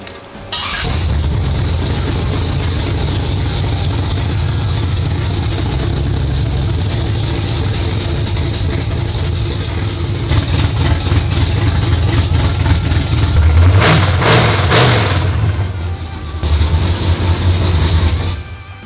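Steady, loud low rumble of a 355 small-block Chevy V8 in an El Camino, idling throughout with a burst of revving near the end before settling back to idle; no talking.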